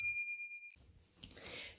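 A YouTube-style notification bell gives a bright, clear ding with a short ringing tail, then a soft rustle and muffled noise follow.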